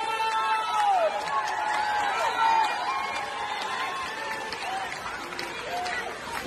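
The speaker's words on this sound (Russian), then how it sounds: "Аплодисменты маэстро!" An audience applauds the maestro at a jazz festival in Japan, steady clapping and crowd noise sustained under a voice talking over it.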